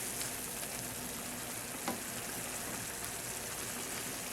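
Jäger mushroom sauce sizzles and bubbles steadily in a hot pan, a continuous close frying hiss with a single brief clink partway through and no talking.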